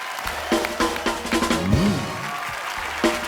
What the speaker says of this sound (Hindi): हर्ष और सैमी के लिए जोरदार तालियां।